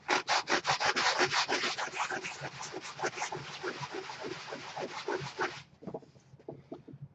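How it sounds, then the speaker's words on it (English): Ceramic tile caulk used as gap filler on EVA foam being sanded by hand, a close, loud rhythmic rasping of quick back-and-forth strokes that fades into a few slower, softer scrapes near the end. "That does not sand at all."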